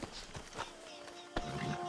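A horse in a Rockstar western video game clops and shifts close by as the rider dismounts, hoof thuds spaced irregularly over faint ambient game sound.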